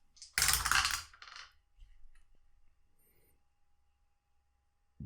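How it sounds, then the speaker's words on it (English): Two dice rolled during a zombie-themed tabletop board game give one loud rattling clatter, then a brief second tumble, followed by faint clicks and near silence. "So we need to reroll these 2 dice because they're misses."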